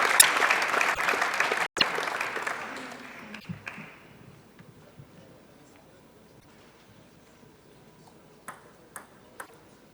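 Applause from a table tennis crowd at a women's final, loud and dense for the first few seconds then fading away, leaving a quiet hall with a few isolated ball pings near the end.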